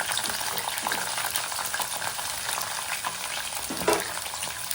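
Peanuts and green chillies fry in oil in a pan for poha, a loud continuous crackling sizzle close up, with occasional stirring scrapes and no talking.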